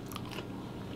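Crunchy fried battered fish dipped in tartar sauce being bitten into, a short close crisp crunch followed by a moment of chewing, with no talking.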